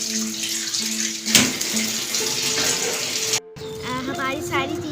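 Sweet potatoes are washed under a running tap, with water splashing steadily for several seconds, a brief louder gush partway through and a short break near the end.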